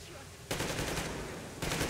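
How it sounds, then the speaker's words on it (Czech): Rapid automatic gunfire in Metro Exodus, a dense rattling burst that starts abruptly, continues, then intensifies again near the end. "Ta furt taky jen střílí."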